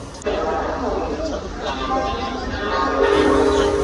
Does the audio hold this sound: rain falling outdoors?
no